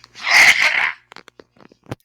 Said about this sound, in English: Dad sneeze coming